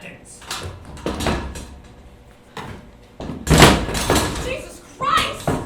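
A stage door bangs open in a live theatre play, a loud sharp burst near the middle, with people talking before and after it.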